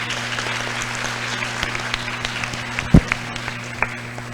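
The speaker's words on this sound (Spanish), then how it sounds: "le damos un fuerte aplauso a este equipo también" Steady applause from a conference audience, dense clapping throughout with a few sharper nearby claps standing out, plus a low electrical hum underneath.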